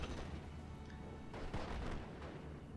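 Stuart tank knocked out by a Panzerfaust in Steel Division: Normandy 44, heard as a dense, continuous wash of booming and crackling battlefield fire with a slightly stronger burst in the middle.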